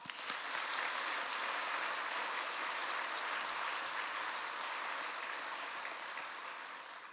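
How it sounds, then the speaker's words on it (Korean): A church congregation applauds in a sustained, even wave of many hands clapping, moderately distant, fading slightly at the end. "박수합시다."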